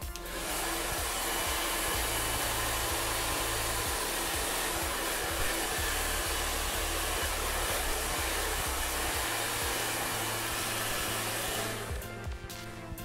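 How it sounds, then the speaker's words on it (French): A hair dryer blows steadily and loudly up close on hair for about twelve seconds, heat-setting a Brazilian straightening treatment, its motor note wavering slightly, then cuts off at the end. "le brésilien s'active avec la chaleur du sèche-cheveux et c'est exactement ce que je vais vous montrer"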